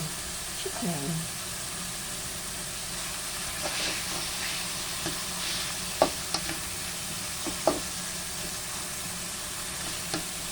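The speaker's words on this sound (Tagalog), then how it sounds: "lagay na natin yung ating chicken bites" Chicken bites frying in a pan, a steady sizzling hiss throughout with occasional clinks and stirring taps, and a voice talking briefly near the start.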